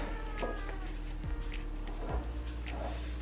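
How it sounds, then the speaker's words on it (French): A cat meows a few times in the background, faint and drawn out, over a steady low hum of room noise. "Vous avez entendu mon chat miauler derrière."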